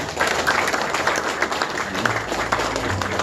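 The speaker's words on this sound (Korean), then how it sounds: "박수로 환영해 주시기 바랍니다" An audience at the 35th memorial ceremony for police superintendent Ahn Byung-ha claps steadily in welcome, a dense, even stretch of many hands with a low hum underneath.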